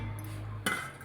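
Metal pot and utensils clink and clatter as rice is washed for cooking, a sharp burst of kitchen clanks midway over a low steady background hum.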